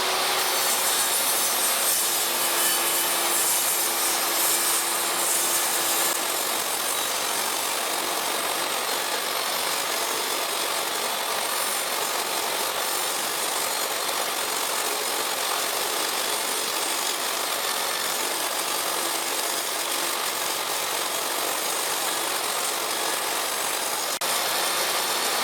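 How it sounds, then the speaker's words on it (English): A saw rips plywood into dividing strips in a continuous, steady cut lasting the full stretch, a loud broadband whine with a faint tonal hum early on and no talk. "I am now ripping the dividing strips. I am starting by cutting a straight edge on one side."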